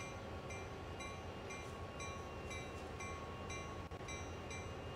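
A CSX Heavy Haul freight train in Train Sim World rumbles steadily, with faint rhythmic clicks recurring about every half second over a low, continuous drone.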